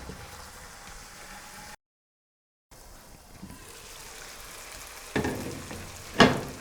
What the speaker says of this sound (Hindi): अब हम इसको लगाएंगे ज़ीरे का तड़का।